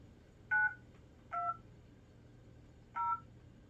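A home landline telephone keypad sounds three short dialing tones, each a clean beep with an uneven gap before the last, quiet against a faint steady hum in an indoor rural household.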